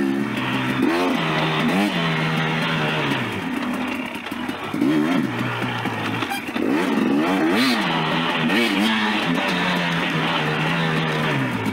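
A 2019 KTM 250xc two-stroke dirt bike rides at a local track, its engine loud and close throughout, revving up and down in rising and falling sweeps with brief throttle dips and no talking.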